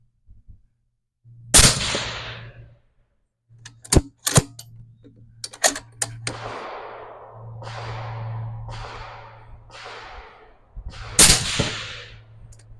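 A 6mm GT rifle fired in several sharp, loud cracks with decaying echoes, spaced a second or more apart, amid a low steady hum and some clicking of the action between shots.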